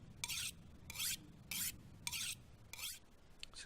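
A knife drawn across a whetstone in The Long Dark survival game, five rhythmic rasping strokes about a second apart, each a crisp scrape over a low steady background.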